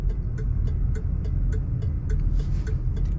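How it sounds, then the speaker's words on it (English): The turn signal in a 1975 Oldsmobile Cutlass S ticks in an even rhythm, about ten sharp clicks over a low idling engine rumble inside the cabin. "Go ahead and throw that indicator on."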